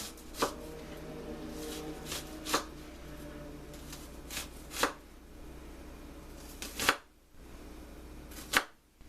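A knife chops an onion on a cutting board in sharp, separate strikes spaced irregularly about a second or two apart, close and crisp against a quiet background, with no talking.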